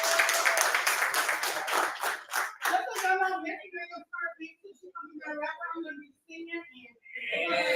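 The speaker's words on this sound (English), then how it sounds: "Everybody give her a round of applause one more time." An audience claps after a presentation at a rooftop brunch and pool party, a dense burst of applause that thins into scattered claps while a voice talks over the end.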